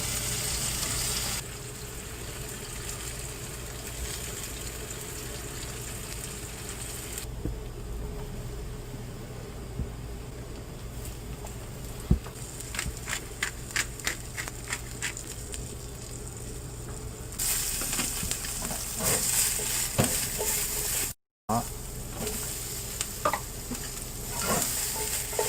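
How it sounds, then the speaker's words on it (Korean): Steady sizzling of tofu frying in a pan, with occasional scraping and stirring clicks over a constant crackling hiss, no talking. "두부는 물기를 제거하고 구워주세요."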